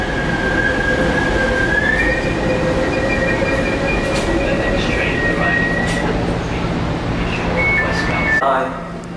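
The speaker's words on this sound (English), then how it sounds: "The next train arriving." A Class 345 train rumbles loudly as it pulls into Custom House station, with long high-pitched wheel squeals and brake screeches before it settles near the end.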